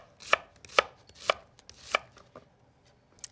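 A knife slicing shallots on a cutting board gives sharp, evenly spaced chops, about one every half second, close and clear with no talk, tapering to a couple of lighter cuts.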